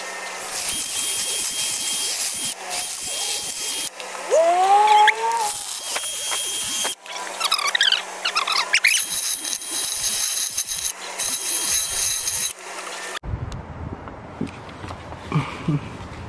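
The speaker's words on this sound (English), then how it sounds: "we're gonna have to make these holes bigger so it can sit better." Power drill enlarging bolt holes in metal while fitting a harness bar, a sustained whining grind with squealing bit bursts and brief stops between passes, close and loud, ending with a different rattling tool sound.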